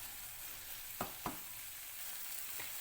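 Onion masala sautés in a pan for egg kothu chapathi, giving a faint steady frying sizzle with two soft clicks of a spoon or spatula against the pan, and no talking.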